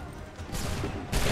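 Musket volley fire in Assassin's Creed 3 Remastered, a burst of massed shots cracking out together in two waves, the second louder, with battlefield noise beneath.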